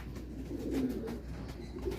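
A racing pigeon coos softly a couple of times against quiet background hum, with no one speaking.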